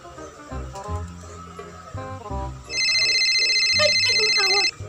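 A phone ringtone for an incoming call starts partway through and repeats as a loud, steady, high-pitched electronic melody, playing over background music.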